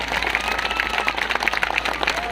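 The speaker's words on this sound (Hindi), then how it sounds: "जोरदार तालियों से विधायक जी का स्वागत कीजिए।" Crowd applause at an outdoor political gathering in Loni during Holi, welcoming a local MLA; dense, steady clapping from many hands fills the clip with some voices mixed in.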